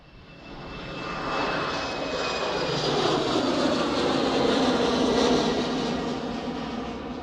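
A KLM airliner's jet engines roar steadily at Manchester Airport, a loud, sustained broadband rumble that swells in over the first second and then holds, with no voices.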